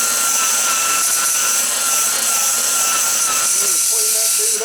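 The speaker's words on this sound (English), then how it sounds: "I got my buffer here. It's a Makita variable speed." A Makita variable-speed buffer with a wool pad runs at high speed, a loud, steady whine with a slight pitch wobble near the end.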